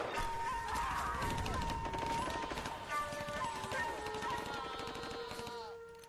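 Rapid gunfire crackles through a military assault in L.A. Noire, with a fire team and flamethrowers moving in; dense overlapping shots and crashes keep up a loud, continuous barrage from start to finish before easing off slightly at the end.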